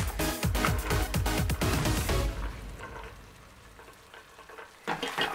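Carrots hit a pot of hot oil over medium heat for vegetable pilau, setting off a loud crackling sizzle that gradually fades, then a short sharp burst of frying near the end.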